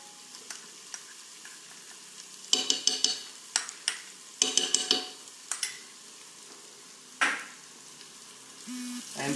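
Black sesame paste stirred into cooking dal in a pot, with a spoon scraping and clacking in short bursts over a soft, low simmering sizzle, pausing between strokes.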